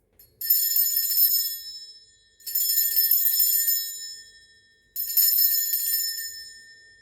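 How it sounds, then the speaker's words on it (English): Three bright, ringing bell strikes spaced a couple of seconds apart, each sustaining and slowly fading, with quiet in between. "Okay, I'm going to ring this bell."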